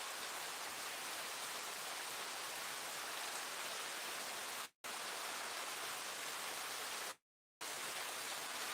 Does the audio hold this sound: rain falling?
yes